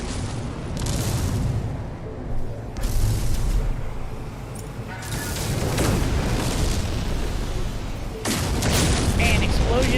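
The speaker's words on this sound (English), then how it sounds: "Man, explosions are very impressive now." Explosions in No Man's Sky, played on PlayStation 4: repeated heavy booms and rumbling blasts in several surges, loud and close, with broadband crackle between them and a voice talking over the action.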